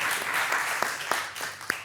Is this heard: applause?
yes